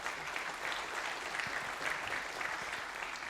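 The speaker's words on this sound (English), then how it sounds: "So let's applaud to Denis." Applause from a conference audience after an AI startup talk, a steady, moderately distant wash of clapping lasting the whole moment.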